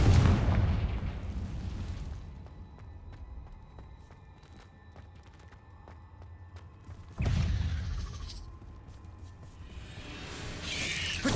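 A Confringo fire spell explosion in the game Hogwarts Legacy, a loud deep boom that fades into rumbling debris, then a second blast hits later and rolls out.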